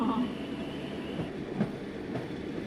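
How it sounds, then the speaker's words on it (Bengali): A departing train rumbles steadily with faint clattering of wheels on rails, heard from inside or nearby, with soft voices in the background. "ট্রেন ছেড়ে দিল ইঞ্জিনের ধোঁয়ায় ভরে গেল"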